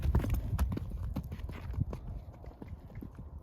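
Hooves of a moving horse, a mare being worked in an arena, clip-clop steadily and close at hand in an uneven rhythm, with soft thuds and no talk.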